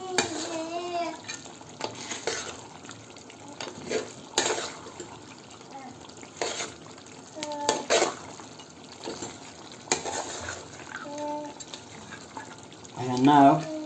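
Lamb charsi karahi stirred in a pan after seven green bullet chilies go in, a spoon scraping through the thick mix in irregular strokes with a soft sizzle beneath, close and moderately quiet, with brief clinks against the pan.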